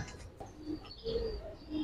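Giribaz pigeons in a loft give a few faint, low coos in a quiet setting, with brief soft calls spaced across the moment.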